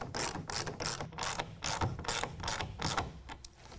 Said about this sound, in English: I'm going to kind of pull down on the clamp and tighten it down.